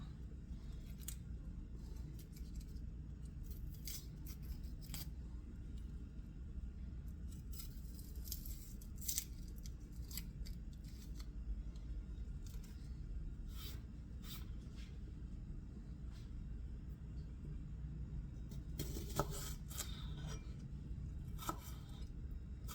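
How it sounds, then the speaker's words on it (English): A knife mincing a small shallot on a cutting board makes faint, irregular clicks and taps over a low room rumble, with a busier flurry of quick chops near the end and no speech. "they want a small shallot, and they want it minced. That's what I'm getting ready to do right now"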